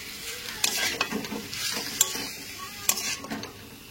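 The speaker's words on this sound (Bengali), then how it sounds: "কলা আলু সাথে মশলাটাকে ভালো করে মিক্স করে নিয়ে" A spoon scrapes and stirs spiced plantain and potato with fried small fish in a pan, with soft intermittent clinks and a gentle sizzle underneath, close by and fairly quiet.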